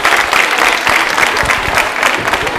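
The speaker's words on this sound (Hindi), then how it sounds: "मेघा के लिए जोरदार तरीके से तालियां जोरों से बजाइए" The audience at an anniversary quiz show held at a women's polytechnic applauds, a loud, sustained wall of many hands clapping that stays even throughout.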